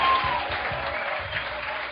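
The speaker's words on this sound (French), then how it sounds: "Give Jesus a mighty clap offering" A church congregation claps for Jesus at a gathering in Geneva, Switzerland, dense steady applause at moderate loudness through the short stretch.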